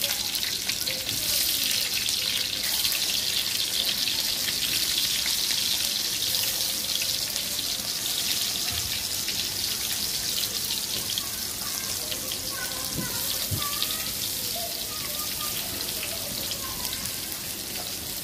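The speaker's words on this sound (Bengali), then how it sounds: "কাঁকরোলগুলো তেলের মধ্যে দিয়ে দিলাম, ভেজে নিয়েছি।" Sliced teasel gourd (kakrol) frying in hot oil in a home kitchen, a continuous bright hiss and sizzle with scattered pops, steady and close, with occasional faint voices.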